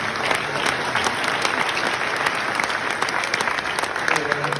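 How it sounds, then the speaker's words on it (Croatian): A live audience at a Croatian political party anniversary gathering in Split claps steadily and loudly for a person named Antonio, dense applause running the whole time with light crowd noise and no speech over it. "može jedan aplauz za Antonija"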